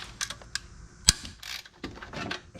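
Pittsburgh ratchet from Harbor Freight with a 5 mm socket working on tight, previously torqued bolts: scattered mechanical clicks and creaks, with one sharp loud snap about midway as a bolt breaks loose, then more ratcheting and rustling.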